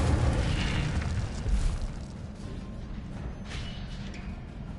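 A loud, sustained whooshing roar of a fire spell, the Incendio cast in Hogwarts Legacy, swells briefly then holds as a steady broad rush alone.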